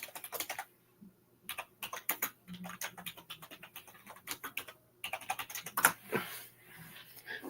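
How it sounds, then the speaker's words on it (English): Rapid, loud clacking of computer keys in irregular bursts, with short pauses between flurries of typing, close to the microphone. "Shut up, JB, talking about how loud my typing is."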